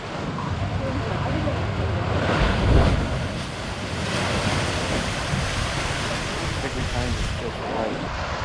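Ocean surf surging and crashing against the rocky shore at Thunder Hole in Acadia National Park, a loud continuous rush with a heavier swell near the three-second mark, buffeted by wind on the microphone.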